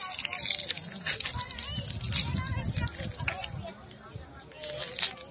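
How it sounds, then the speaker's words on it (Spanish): Water gushes and trickles from a push-button public water fountain in a park, splashing close by while people talk over it. "pero le das y sale agua."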